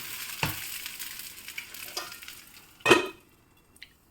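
Bun dosa made from flattened rice cooking on a hot pan, with soft frying sizzle punctuated by a few sharp scraping and clinking touches from a spatula, near and fairly quiet.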